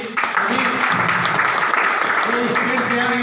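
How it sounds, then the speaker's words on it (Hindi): Loud applause from an audience at a business lifestyle seminar, a dense steady wash of clapping with voices and cheering mixed in throughout. "उनके लिए जोरदार ताली"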